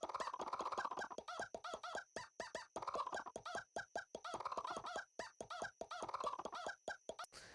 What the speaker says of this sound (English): the chickens make funny sounds